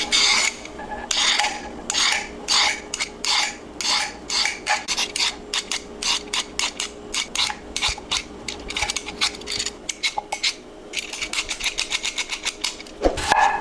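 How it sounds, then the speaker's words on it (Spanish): Peeling the skin off a carrot with repeated rasping scrapes in a steady rhythm, loud and close. The strokes come in quick runs with a short pause near the end. "Vamos a empezar con la zanahoria. Le quiero quitar poquita piel."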